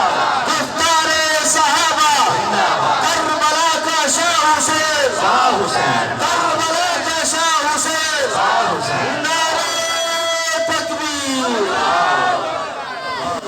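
A large crowd at a religious gathering shouts a religious slogan in response, loud massed voices chanting together in repeated surging bursts.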